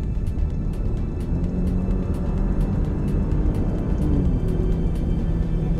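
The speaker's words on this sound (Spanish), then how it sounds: "Como pueden escuchar ahí el motor" A 2017 Alfa Romeo Giulia Quadrifoglio's engine drones steadily while the car drives on an open road, a loud, even rumble heard from inside the cabin with no talking.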